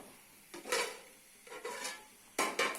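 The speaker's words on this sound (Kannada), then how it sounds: "1 ಹೆಚ್ಚಿದ ಈರುಳ್ಳಿ ಹಾಕಿ" Chopped onion goes into a pan of tempering with mustard seeds, cumin and curry leaves for sprouted moong sambar; three bursts of scraping and sizzling from a spoon stirring the pan, with quiet gaps between.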